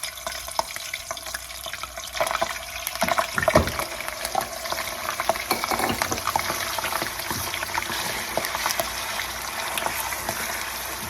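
Chicken sizzles and crackles in a hot pan for chicken haleem, a steady frying hiss with stirring scrapes, close and fairly loud.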